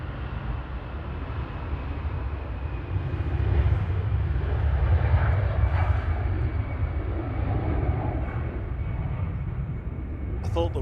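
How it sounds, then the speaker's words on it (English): An EasyJet airliner bound for Palma rolls for takeoff at Manchester Airport, a distant low engine roar that swells and fades under steady background rumble. "EasyJet to Palma just about to roll."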